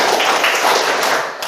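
A standing group in a classroom claps together in a quick counted rhythm, the dense, bright hand claps blending into a steady wash of several beats.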